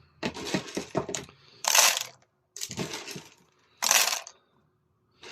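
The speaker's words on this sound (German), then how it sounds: "Ich werde jetzt hier noch etwas Bohnen hinzugeben." Coffee beans poured into a DeLonghi coffee machine, heard as several loose rattling bursts of hard beans with brief quiet gaps between them, close and fairly clear.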